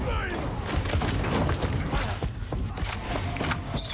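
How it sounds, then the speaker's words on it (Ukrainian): Gunfire in the video game Warhammer 40,000: Darktide, a dense volley of sharp shots and booms overlapping in rapid bursts throughout, fairly loud and mixed with game noise. "я прям чую ці постріли"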